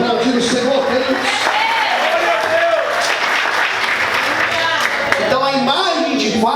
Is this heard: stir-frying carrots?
no